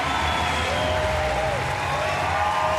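A Paralympic powerlifting audience gives steady, sustained applause, a dense even wash of clapping from a large crowd with no break.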